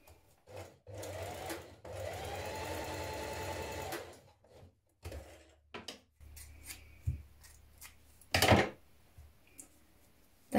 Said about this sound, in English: we're going to stitch the central seam here